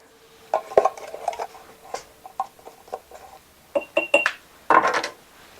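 Small glass spice jars clink and knock against each other and a hard counter as one jar is swapped for a smaller one while making a DIY pantry spice mix, with irregular bright taps and short pauses and no talking.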